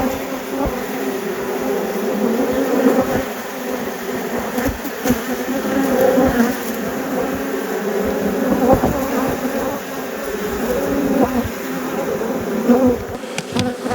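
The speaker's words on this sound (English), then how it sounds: "Sorry about the bees" Honey bees swarm and drone steadily around an opened hive in an Australian bee yard, a dense continuous buzz close to the listener throughout.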